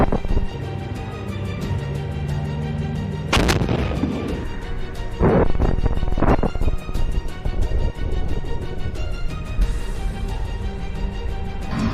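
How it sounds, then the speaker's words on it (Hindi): A loud, sharp blast as a tank explodes, followed by further booming explosions and cracks of gunfire over a dense, continuous roar of battle in Gaza. "जिससे टैंक में जोरदार धमाका होता है"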